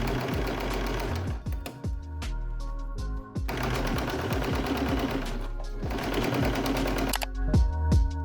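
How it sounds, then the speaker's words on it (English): A sewing machine stitches a pocket onto a quilted tote bag in fast, steady rapid-fire runs with short pauses between seams. "sew in place at 5 mm from the edge along the sides and bottom of the pocket"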